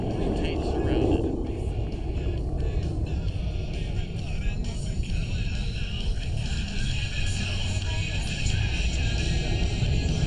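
An F/A-18 Super Hornet jet roars steadily through a loaded roll, a continuous broad rumble that holds near the same level throughout, with a voice talking over it.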